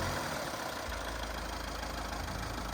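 A Mahindra Thar 2WD engine turns over and settles into a steady idle, the low mechanical rumble continuing evenly at a moderate, fairly quiet level with no talking.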